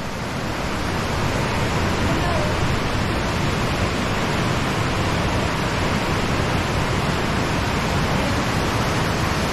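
Ditumabo Mother Falls pouring down, a loud, dense and unbroken roar of falling water heard up close, steady from start to finish with no other sounds rising above it.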